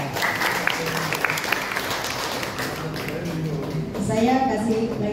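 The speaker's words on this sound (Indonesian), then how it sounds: "Kasih tepuk tangan." A church congregation at a worship service in Semarang claps together in a warm burst of applause that carries on steadily, and a voice speaks over the end.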